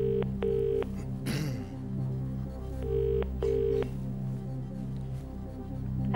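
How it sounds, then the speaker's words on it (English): Telephone ringing on a phone-a-friend call from a UK quiz show studio: several paired electronic rings repeat in short bursts, heard fairly faintly over a dense bed of studio music and background sound. "Okay, we'll phone Emma."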